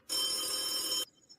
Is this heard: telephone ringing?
yes